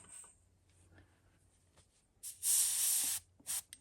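Bursts of airbrush spraying paint onto a fishing lure at about 20 psi, a loud steady hiss lasting under a second followed by a shorter puff, after a quiet stretch with faint clicks.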